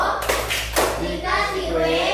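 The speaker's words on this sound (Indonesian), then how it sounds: "kita beri tepuk wow kepada kelompok satu" A group of students gives a rhythmic cheer-style clap in a classroom: a few sharp sets of hand claps close by, with children's voices mixed in.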